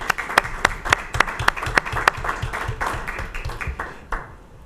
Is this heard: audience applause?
yes